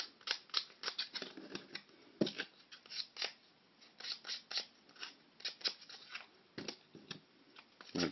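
Sandpaper rubbed along the edges of plastic scale-model Spitfire fuselage parts gives a series of short, quiet scratchy strokes in an irregular rhythm, close up with no talking.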